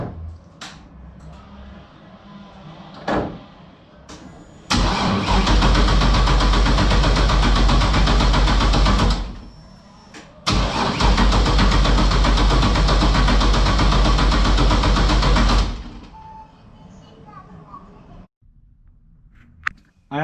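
A freshly repaired LS 5.3 V8 with ported heads, swapped into a Toyota GT86, cranks and fires with a loud, near roar that runs about four seconds, cuts out, then restarts and runs for several more seconds before shutting off.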